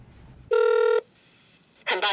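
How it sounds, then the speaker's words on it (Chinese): A telephone dials a number: a half-second keypad tone sounds loud and close, then after a pause a short double tone follows. "打电话给协会总机"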